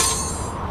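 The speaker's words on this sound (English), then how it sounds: "This is the sound of a brand new outdoor grill being hurled off a 20-story building." Brand new outdoor grill hurled off a 20-story building, heard as a loud, brief metallic crash that starts with a bright burst and leaves a dense, fading rattle.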